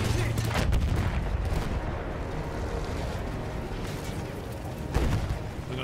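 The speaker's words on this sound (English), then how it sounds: "There's more artillery we gotta take out." Artillery field guns firing in the video game Battlefield 1, heard as a dense, continuous roar of battle with rumbling booms and a sharp louder blast near the end.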